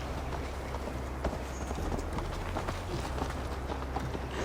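Horse hooves gallop steadily through the Assassin's Creed Valhalla video game soundtrack, a continuous rhythmic clip-clop of a mount at speed beneath constant ambient game noise.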